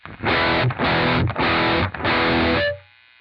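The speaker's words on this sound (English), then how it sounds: "add the two layers of distortion to each other" A heavily distorted electric guitar, run through two stacked distortion pedals, plays four loud, thick chord bursts with brief gaps between them, then cuts off into a faint hum.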